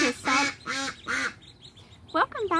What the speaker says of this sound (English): I'm out here with all of the ducks and ducklings, and they're trying to show off for you today